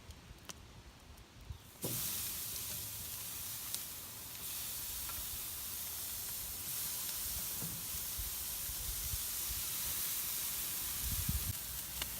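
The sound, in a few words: pork roast searing on grill with cherry wood chips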